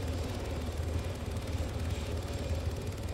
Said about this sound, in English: What is this, a Black Hawk?